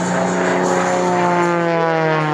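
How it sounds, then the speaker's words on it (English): A propeller aerobatic plane performing spins at an air show over New Hampshire, its engine a loud, steady droning whine with a slowly shifting pitch, close and continuous without pause. "That plane was only falling, not really flying."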